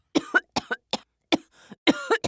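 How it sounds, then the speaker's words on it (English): A voice gives a string of short, close coughs, about six separate bursts with brief silences between them, sounding like a mock cough. "Cough, cough."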